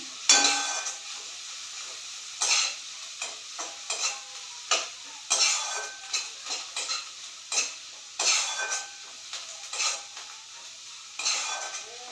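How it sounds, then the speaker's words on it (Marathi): Onion for pav bhaji is sautéed in a pan until golden brown, with repeated bursts of a spatula scraping and stirring against the metal over a soft, constant sizzle. "कांदा इथे गोल्डन ब्राऊन रंगावर असं परतून घ्यायचं"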